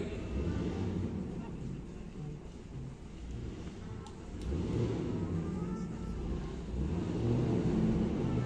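An old car engine rumbles and idles nearby at a vintage car elegance show, a low steady mechanical growl that swells slightly, with people talking over it.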